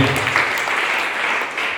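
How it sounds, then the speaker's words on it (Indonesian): Short burst of church congregation applause, dense and fairly loud, many hands clapping together and fading slightly toward the end. "Kita berikan tepuk tangan untuk Tuhan."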